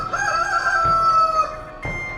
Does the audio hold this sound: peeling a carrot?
no